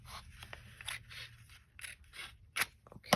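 Scissors trimming paper straight across while covering journal pages: a series of close, crisp snipping cuts with slicing scrapes, irregular and quiet, with sharper snips near the end.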